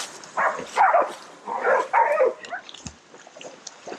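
Hunting dogs barking at a boar in a tropical creek, several excited barks in bursts at moderate distance, with short pauses between and faint yips trailing off.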